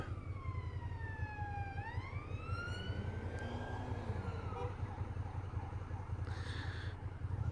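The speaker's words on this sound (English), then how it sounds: "I'm not gonna bother with the police car there" A police car siren sweeps up and down in rising and falling wails, moderately close, over a constant low engine rumble.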